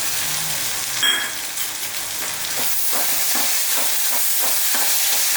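Okra sizzles and fries hard in a pan, with a loud, steady crackling hiss throughout and faint clinks and stirring near the start as tomato goes in; no one speaks.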